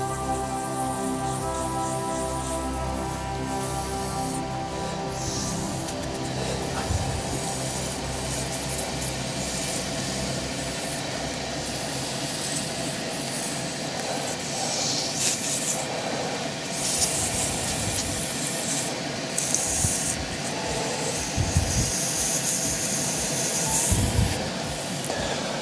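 Sandpaper rubbing a hybrid resin casting spinning on a wood lathe, a continuous gritty scraping over the motor's steady drone, with rougher, louder passes toward the end.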